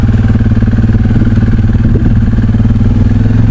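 A four-wheeler ATV moves through woods near a fence, its engine droning steadily and fairly close with a low, clattering rumble throughout and no talking.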